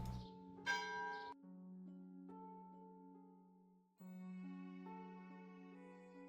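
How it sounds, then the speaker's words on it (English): Church bell tower in the Settlement Survival building game ringing out in sustained, resonant peals, a first strike followed by a second clear toll around the four-second mark, each tone lingering and decaying with no voices over it. "We have an extra bell tower we can use."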